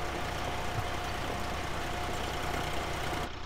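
A Swaraj 735 tractor engine in Farming Simulator 19 runs with a steady, droning rumble while pulling a rotavator. The sound is constant and fairly loud, with no talk over it.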